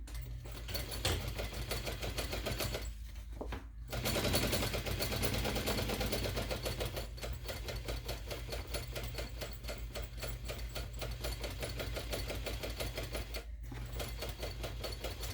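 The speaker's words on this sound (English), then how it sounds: "I'm going to add another small stitch or another line right next to it" A sewing machine stitches a seam in vinyl for a messenger bag, a steady rapid mechanical chatter up close, briefly stopping twice near the start and once near the end, with no voices.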